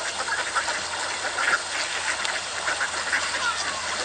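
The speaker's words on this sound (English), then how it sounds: "We're trying to let the ducklings hear some real duck sounds because it encourages them" Recorded duck quacks played back to ducklings hatching from their eggs, a steady stream of nasal quacking over constant broadband hiss, without talk.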